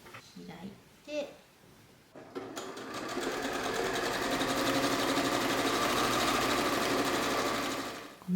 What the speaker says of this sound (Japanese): ここの縫い代がビヤビヤ出てきたりほつれてきたりしないように、ここ縫い留めていきます